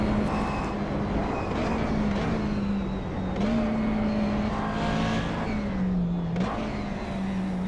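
A Porsche GT3 Cup race car screams past at close to 270 km/h in a French championship race, its engine a loud, sustained high-revving howl with brief dips at gear changes.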